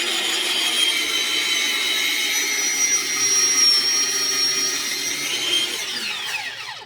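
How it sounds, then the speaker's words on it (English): A loud electric food processor grating cheese, a steady close high-pitched motor whine with whirring tones that waver slightly and wind down at the very end, with no talk. "I'm just going to continue grating all this cheese. And I'll be back because this machine's like really loud."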